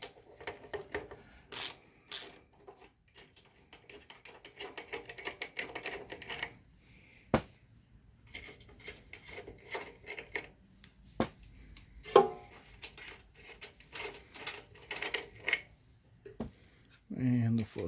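A 9/16 wrench works loose the four bolts that hold a rusty pressure washer pump to its engine, giving scattered metallic ratcheting clicks and small clanks close by, with someone talking over them.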